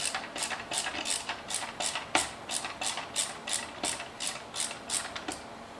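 Small screws are driven into the side cover of a Revolo WiFi smart video deadbolt lock, giving a steady run of a dozen or so crisp, evenly spaced ratcheting clicks, close and moderately quiet.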